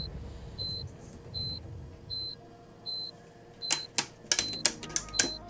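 Repeated cockpit warning beeps in a Mooney M20 Ovation aircraft in Microsoft Flight Simulator 2020, a steady evenly spaced series of short tones, followed by a burst of sharper clicks and taps toward the end.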